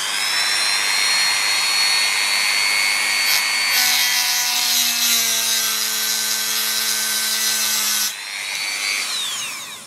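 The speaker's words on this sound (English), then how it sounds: "you should never really ever have to take a Dremel to an SX-70" A Dremel rotary tool carves slots into stubborn screws on a Polaroid SX-70 Model 1 camera, giving a loud, continuous high whine that drops in pitch under load midway, then rises again as the bit frees up.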